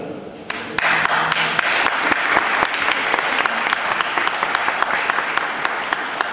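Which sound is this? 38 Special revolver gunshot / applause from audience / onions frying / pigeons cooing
applause from audience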